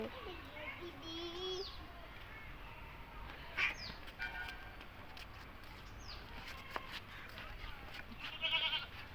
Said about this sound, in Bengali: বৃষ্টিতে ছাগলটা কাঁদছে